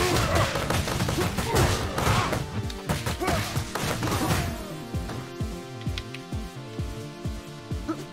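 Gunfire in the beat-'em-up video game Streets of Rage: a dense flurry of sharp shots and impacts, then a run of evenly spaced punchy thuds, loud and close.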